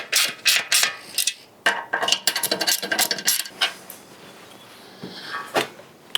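Bolts being put into the top back of a Spider Grills Huntsman grill with a ratchet, producing close, loud runs of quick metallic clicks and ratcheting, irregular and start-stop, with no voices.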